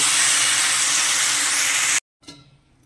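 Water poured into a hot cooking pan erupts into a loud, close steaming hiss that runs steadily for two seconds, then cuts off, followed by a faint clatter.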